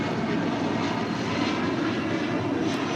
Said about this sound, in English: This is ABX Air Flight 1403 departing to Cincinnati on a 767-200 converted freighter